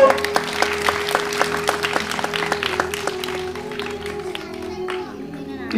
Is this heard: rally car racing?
no